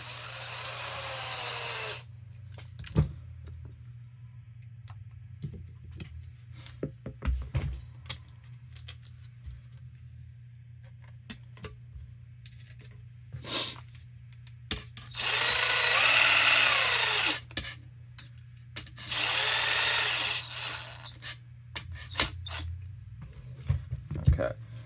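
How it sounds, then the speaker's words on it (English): A power tool grinds down screws for a Losi 22S mid motor conversion build, in two loud sustained bursts of a couple of seconds each, amid scattered clicks and handling noises, with a steady low hum underneath. "I just have to get two screws ground down"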